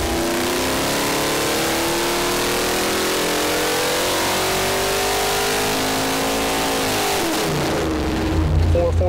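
A small block Chevy V8 runs on a dyno, revving in a sustained loud pull with rising then steady engine tone before dropping off near the end.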